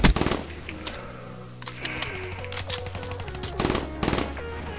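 Rapid automatic gunfire from Black Ops 3 in gun game mode, with loud, dense bursts of shots in quick succession over a busy game soundscape.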